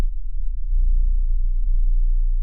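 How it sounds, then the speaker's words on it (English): A deep, sustained Moog-style bass synth drone rumbles low and steady, with faint wavering tones drifting above it; no voices. "below it, I have a kind of droning Moog sound, which is more of a bass sound."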